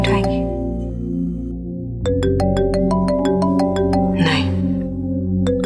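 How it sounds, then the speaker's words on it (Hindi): A phone ringtone plays for several seconds as a repeating melodic tone pattern, fairly loud and steady within a domestic drama scene, with no speech over it. "फोन नहीं उठाएंगी?"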